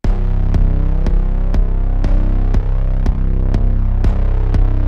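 A kick drum in a music mix thumps in a steady, evenly spaced pulse, each deep hit punching through a sustained bass-heavy backing.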